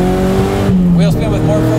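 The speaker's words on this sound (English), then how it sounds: "Wheel spin." A MazdaSpeed 3 spins its wheels with a loud engine drone and a sharp, brief tire squeal close by, while people talk over it.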